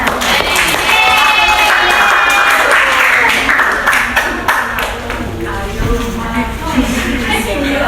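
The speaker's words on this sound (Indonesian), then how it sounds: "Beri tepuk tangan semuanya." Classroom applause as students clap for a group called up to present in a primary school teaching simulation, loud and dense, easing slightly midway, with voices mixed in.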